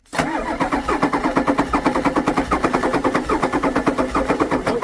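A cold Ford 6.9 IDI turbo diesel cranks on the starter without catching. It makes a loud, rapid, evenly pulsing churn that runs continuously for several seconds after a sudden start.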